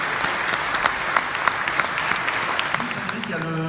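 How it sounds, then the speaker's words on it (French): Audience at an opening gala of a national congress in Nancy breaks into dense, sustained applause, loud and continuous, with a faint musical tone entering near the end. "Un tonnerre d'applaudissements pour Jean-Denis."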